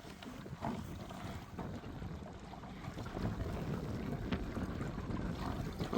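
Small Merc 3.5 outboard motor pushes a Quest Angler 10 boat with a steady low drone, blurred by wind buffeting the microphone and water rushing along the hull.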